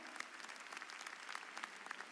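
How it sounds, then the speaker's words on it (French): A crowd applauds at a live New Year show in Abidjan, with steady clapping that sounds faint and distant. "je voudrais qu'on l'applaudisse très très fort"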